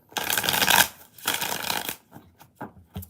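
Tarot cards are shuffled in two loud riffling bursts, each close and lasting under a second, followed by a few softer taps and flicks of the deck.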